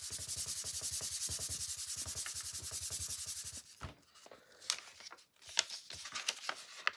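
A DVD disc is scratched up with fast, even rasping strokes for several seconds, then scattered scrapes and clicks follow at closer range.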